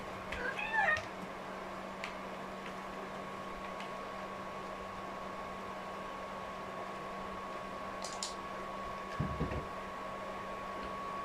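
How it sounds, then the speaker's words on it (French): A domestic cat meows once near the start, close and fairly clear over a steady low electrical hum, with a faint second sound later in the quiet room. "Mais le chat, arrête de taper l'incruste."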